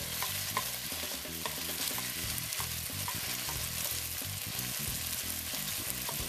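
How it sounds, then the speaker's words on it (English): Thin-sliced beef frying and sizzling in a hot pan while being stirred, with a steady loud sizzle broken by frequent scraping and clanking of the utensil against the pan, no voices. "Stir that meat up. Just want to cook it till it's no longer red."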